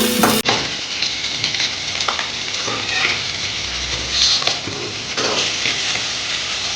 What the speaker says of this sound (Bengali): এক পিঠ ভাজা হয়ে গেছে অপর পিঠ উল্টে দিলাম